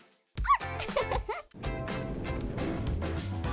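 A small dog gives a few close, high yips and whimpers, then a steadier stretch of muffled rumbling and rustling follows.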